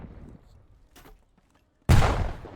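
Double grenade blast in a competitive Call of Duty-style esports match, a sudden loud broadband explosion after near-silence, sustained and rumbling for the last second of the clip.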